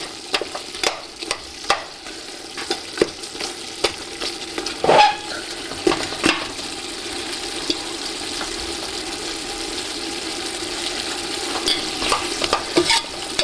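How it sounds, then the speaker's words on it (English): Masala for an Indian meat curry being stirred and scraped around a frying pan, with a steady sizzle under repeated sharp scraping strokes of the utensil against the pan. "All the masala from the sides of the pan are scraped in to the center."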